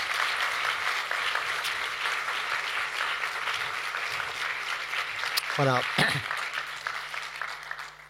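Audience applause at an evening celebration for Palladio, a dense steady roar of clapping that fills the room throughout, with a voice briefly speaking over it near the middle.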